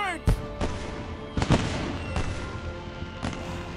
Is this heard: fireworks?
yes